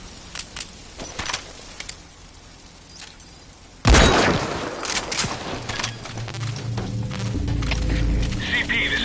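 Gunfire erupts in the Metal Gear video game: after a quiet, sparse stretch, a sudden loud burst of shots and impacts hits, followed by sustained noisy combat din with voices underneath.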